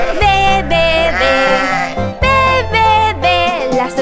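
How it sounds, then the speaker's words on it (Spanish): Loud, close sheep bleats sound in two long wavering calls with a short gap between them, rising and falling in pitch, in a sheep-counting song for children. "Las ovejas en el bus dicen ve, ve, ve, y no pararán."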